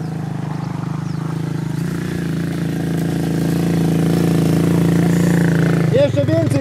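A powerful quad bike engine runs at a steady, loud drone, the pitch climbing slightly as the throttle opens. A voice cuts in near the end over the engine noise.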